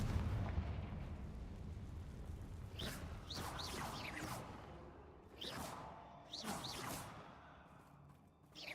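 A Confringo fire spell blasting in a Hogwarts wizarding video game, heard as several sharp whooshing bursts with booming explosive impacts over a low rumbling background, some landing close and loud and others more distant.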